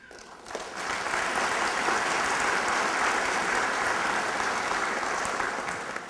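Applause at a church's 100th anniversary mass rises after a brief quiet start into a full, sustained roar of many hands clapping, holding steady throughout.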